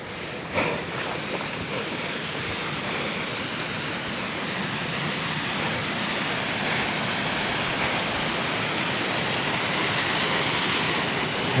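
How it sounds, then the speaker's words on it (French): A small mountain waterfall on a hiking trail in the Ariège Pyrenees gives a steady, broad rushing wash of water, continuous and fairly close, with no voices. "Je vais juste monter sur le petit melon pour vous filmer la petite chute d'eau là"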